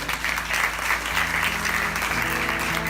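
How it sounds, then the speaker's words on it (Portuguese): Audience at a Catholic preaching event, Combatentes da Imaculada 2019, breaking into steady, loud applause that fills the whole clip, with a faint musical tone beneath. "e vai aplaudir São João Paulo II"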